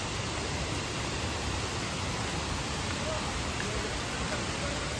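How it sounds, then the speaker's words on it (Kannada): Sirimane Falls near Sringeri sends water plunging down in a continuous broadband roar. It holds at an even, moderate level throughout, with no clear voices over it. "ಸಿರಿಮನೆ ಫಾಲ್ಸ್ ಶಬ್ದ ಕೇಳಿಸ್ತಾ ಇದೆಯಾ? ಜೋರಾಗಿ"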